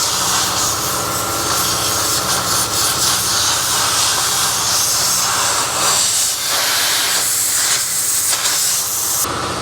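Loud, steady blast of compressed air roaring and hissing through a clogged tractor radiator, continuous for the whole stretch with slight surges and a brief drop near the end.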